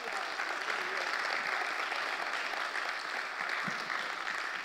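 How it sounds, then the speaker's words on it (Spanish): A congregation at a church talk on responsible fatherhood gives steady applause, a continuous even roar of many hands clapping together, moderately loud and unbroken. "Por favor, un aplauso para mi hermano, reconocimiento."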